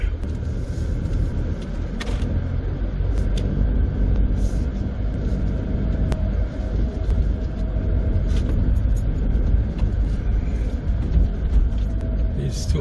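An old Mercedes car rolls through a German village and up a hill, its steady low engine and road rumble filling the cabin continuously at a close, even level.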